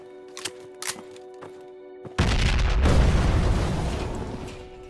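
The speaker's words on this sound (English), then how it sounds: "I recommend you to run away from the cache, because the explosion is quite big." A large C4 blast destroying a cache in the military shooter game Project Reality: after a few faint clicks and taps, a sudden loud, deep boom erupts and rolls on as a long, rumbling roar that slowly fades.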